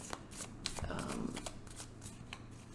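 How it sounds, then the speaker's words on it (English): Tarot cards being shuffled by hand, a close, quiet run of rapid papery riffles and flutters with a few sharper snaps. "Okay, Pisces, one more shuffle."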